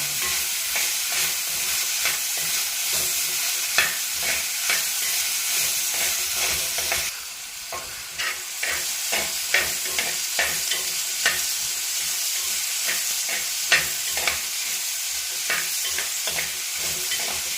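Onions fry in a pan for a Kerala-style mutton curry, a loud, close sizzle with frequent stirring scrapes and clinks recurring throughout.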